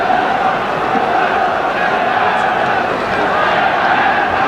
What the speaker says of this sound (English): the roars from these crowds